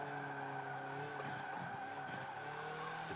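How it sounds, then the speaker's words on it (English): Tires squealing as a car overcooks a corner in Forza Motorsport, the Hoonigan Focus on the Bugatti Circuit: a sustained, steady high screech over engine drone, unbroken for several seconds, with no voices. "I'm going to totally overcook the tires in this corner just so you can hear what it sounds like"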